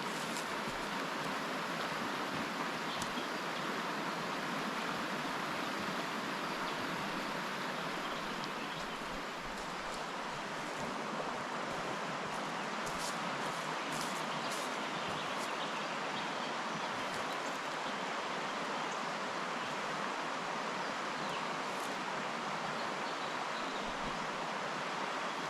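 A pristine trout river flows without pause, a dense broadband rush of water that fills the scene evenly and close, with no voices over it.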